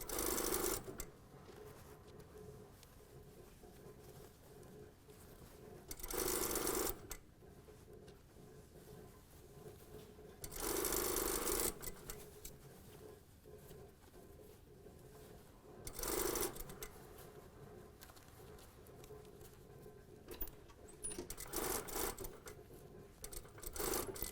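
A sewing machine stitches a jacket lining onto a sleeve hem, running in several short, loud bursts separated by quiet pauses.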